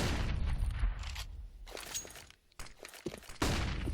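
Grenade blasts and gunfire in a CS:GO match between Misfits and Luminosity on the Cache map come as several sharp, booming bursts with short lulls between them.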